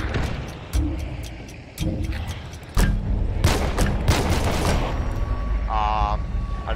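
Gunfire in Hunt: Showdown, a few sharp reports followed by a heavier burst of shots, loud and close over a rumbling game background.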